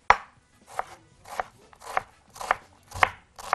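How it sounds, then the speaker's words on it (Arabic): A knife chops an onion on a cutting board in a kitchen, six or seven crisp, evenly spaced strikes about half a second apart, close and clear with no talking. "خرط لهم شويه بصل"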